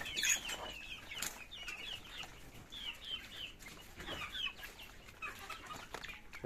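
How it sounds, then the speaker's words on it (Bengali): Native village chickens cluck and call repeatedly at close range, with scattered wing flaps and rustling around a farmyard, steady through the whole stretch with no talk. "আর এই যে দেশি মুরগিগুলো দেখুন"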